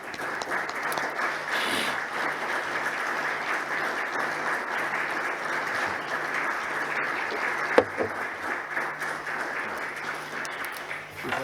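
Audience applause fills an employers' day ceremony hall in Zurich, steady and sustained for about eleven seconds with one sharper clap near the end, fading slightly at the close.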